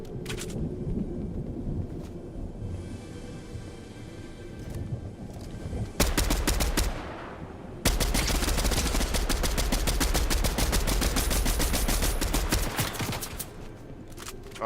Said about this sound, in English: Yeah, they had a cannon.